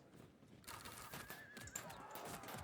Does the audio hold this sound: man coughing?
no